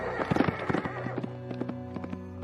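A startled horse clip-clops with quick, uneven hoofbeats close by, and a loud whinny rises over the footfalls.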